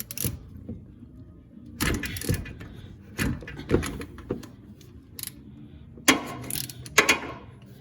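Socket wrench on an extension working loose a car oil filter during an oil change, a few sharp metallic clicks and clanks separated by quiet gaps, close and fairly loud against a soft background.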